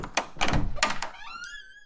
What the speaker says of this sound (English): And then the door opened.